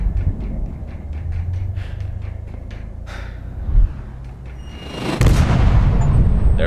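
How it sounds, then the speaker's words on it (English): A missile explosion in the video game ColdSide: a steady run of dull thuds gives way to a sudden, heavy blast that swells into a loud, sustained roar and rumble. "Bet I can hear the missile."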